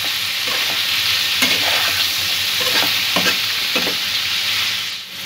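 Jackfruit frying in oil as it is stirred, a steady close sizzle with repeated scraping strokes of a spoon or spatula against the pan.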